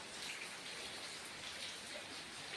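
Rain falls at a Gir cow shelter during a heavy downpour, a steady, even wash of drops that continues without a break, soft and somewhat distant.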